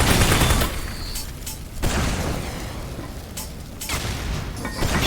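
Rapid gunfire rings out in the Aperture Desk Job video game, a loud volley at first and then repeated bursts of shots with heavy booms, close and without talk.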